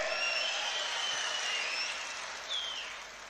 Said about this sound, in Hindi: मान साहब के लिए जोरदार ताली बजा दें।